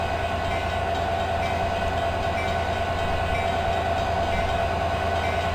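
Inside an Amtrak Surfliner passenger train, a continuous rolling rumble of the cars on the rails holds steady and moderately loud, with no voices.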